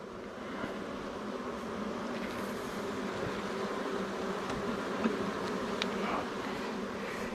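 Agitated honeybees buzz in a dense, continuous drone, with occasional individual bees passing closer over the steady hum.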